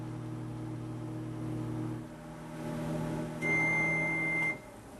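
A microwave oven hums steadily while thawing venison, then a few high beeps sound near the end as the cycle finishes and the hum stops.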